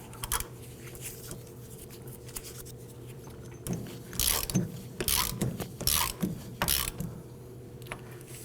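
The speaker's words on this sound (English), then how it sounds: "Install the axle nut. And let's go ahead and tighten it down." Ratchet tightening the axle nut on the rear spindle of a 2008-2011 Ford Focus, heard as quick bursts of metallic clicking in several short runs over a steady background hum, close and moderately loud.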